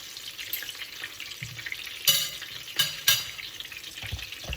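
Sicilian fish cakes fry in hot oil, a soft steady sizzle close by, broken by a few sharper crackles and bursts as they are moved in the pan.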